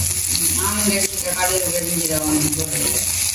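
Potatoes sauté in a hot pan for a Jaffna-style dish, with a steady, close sizzle and stirring. Voices talk over the frying.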